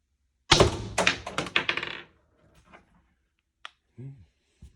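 A First Strike FSC paintball marker fitted with an SSD power spring fires a rapid burst of about eight sharp, close shots in quick succession, followed by a few faint clicks and brief talk.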